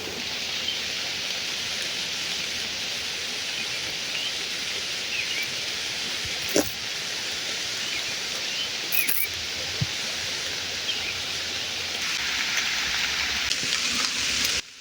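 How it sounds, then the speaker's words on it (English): Heavy rain falls outdoors as a steady, dense hiss of drops on surfaces, continuous and even throughout, with a couple of sharp isolated clicks and no voices. "It's starting to rain really hard."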